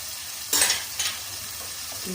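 Bread roasting in oil in a pan, giving two short bursts of close sizzling over a quiet hiss.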